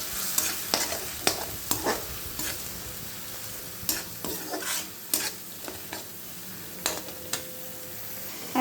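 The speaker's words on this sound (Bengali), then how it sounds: "আর দেবো কিছুটা কাশ্মীরি লঙ্কা গুঁড়ো। ভালো করে কষিয়ে নেব।" Diced potatoes fry with salt and Kashmiri chili powder in a pan for an aloo paneer masala, giving a steady close sizzle broken by repeated sharp scrapes and clacks of a spatula stirring, with no voices.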